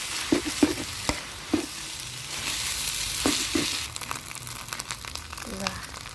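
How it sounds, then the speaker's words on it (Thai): Rice sizzles as it is stir-fried in a pan, with a spatula scraping and tossing it at close range and a few soft knocks against the pan, while a voice speaks quietly underneath. "ใส่ข้าวไว้ติดคนให้เข้ากัน"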